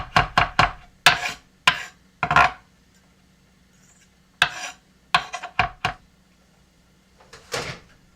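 Garlic chopped in a pull-cord spinning chopper: sharp clusters of clattering, rattling bursts with short pauses between them, close and fairly loud, then a quiet stretch before more quick rattling pulls.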